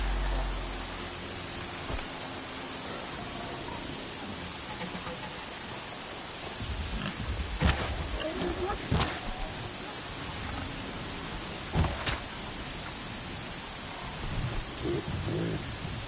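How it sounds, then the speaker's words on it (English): Rain falling in the video game Horizon Zero Dawn, a steady broadband hiss throughout with occasional louder bumps and tones from the game mixed in, no talking. "Here comes the rain."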